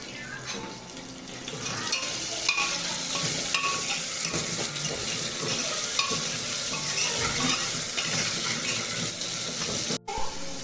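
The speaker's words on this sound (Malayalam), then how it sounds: "നന്നായിട്ട് സവാള ഒന്ന് വഴറ്റാം നമുക്ക്." Sliced onions with curry leaves and salt sauté in a pan, giving a continuous close sizzle with scraping and clinks from stirring throughout.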